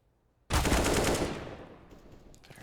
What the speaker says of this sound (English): Fair shot with the AK.